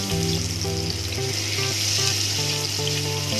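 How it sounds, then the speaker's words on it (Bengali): Chicken pieces sizzle and fry steadily in a hot pan for a crisp homemade chicken burger, a loud, continuous close-up crackle with no talking. "এটা ভালোভাবে ফ্রাই করতে হবে। পুড়িয়ে ফেলা যাবে না।"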